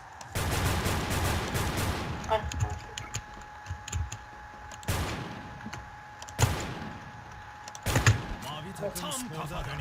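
Single gunshots fire one at a time in the online shooter Wolfteam, a few loud bursts spread seconds apart. A player talks over them, with keyboard clatter in between.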